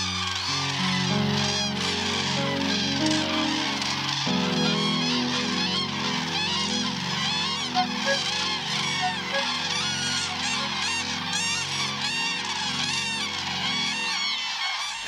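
Common cranes call as big flocks arrive at a wetland in southern Sweden, a dense, continuous chorus of loud trumpeting and honking calls, many birds overlapping near and far throughout.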